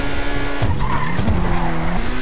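A fast car in GTA RP, its loud engine droning while tyres squeal and skid continuously, the pitch of the squeal wavering and bending as the car slides through a turn.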